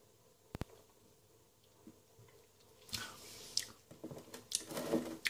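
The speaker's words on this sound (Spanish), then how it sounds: "Así que voy a dar un traguito." A drinker takes a small sip of Turia toasted beer, a dark beer, from a glass: quiet, close wet slurping and swallowing sounds after a single click, with no talking.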